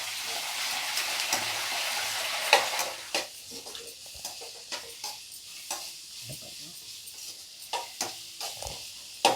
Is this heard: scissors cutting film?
no